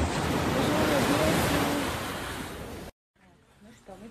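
Sea waves at the seaside in Odesa wash loudly with strong wind buffeting for about three seconds, then cut abruptly to a much quieter, fainter passage.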